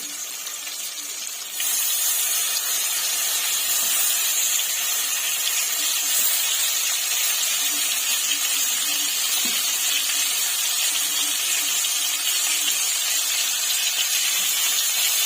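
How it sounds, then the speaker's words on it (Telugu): Chopped tomatoes drop into five tablespoons of hot oil for a coriander and mint pickle, the frying jumping to a loud, dense, steady sizzle after a quieter opening second and holding there. "నేను 5 టేబుల్ స్పూన్ల ఆయిల్ వేసుకున్నానండి. వేడెక్కింది. టమోటాలు వేస్తున్నాను."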